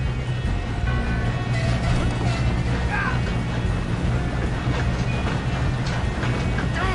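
Rumbling rolling train in a heist-style video game, a steady loud low roar with faint rail clatter running throughout.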